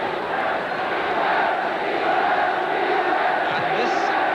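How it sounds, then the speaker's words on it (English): A large football crowd at Windsor Park in Belfast, Northern Ireland against England in 1971, keeps up a dense sustained roar of chanting and shouting that fills the stadium without a break. "this Belfast crowd now shouting easy, easy, easy"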